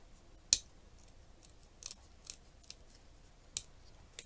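Scissors snip around the outline of a paper butterfly, a few crisp, close cuts spaced irregularly with quiet gaps between, no voices.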